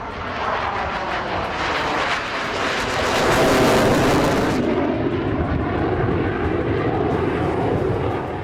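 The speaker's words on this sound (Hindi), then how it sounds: "तेजस जब आसमान में उड़ान भरता है तो उसकी गर्जना से पूरा आसमान कांप उठता है" A Tejas fighter jet thunders overhead in a loud, continuous roar that swells to a peak midway and then eases slightly while staying powerful, with no speech.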